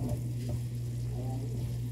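Pork adobo with kangkong is stirred while frying in a pan, giving a steady low sizzle with soft scraping and shuffling, close and continuous throughout with a constant hum underneath.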